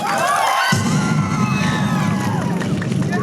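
Concert crowd at a stage show cheering and shouting loudly throughout, a dense roar of voices with applause mixed in, continuous and close.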